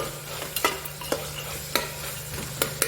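Vegetables for a vegetable biryani are sautéed in a pan with a steady close sizzle, broken by several sharp scrapes and clicks from a stirring utensil against the pan.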